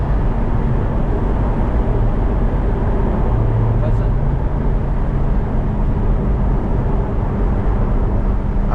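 A C8 Corvette's V8 drives along UK countryside B-roads, giving a steady, loud, dense rumble that holds for the whole stretch without letting up.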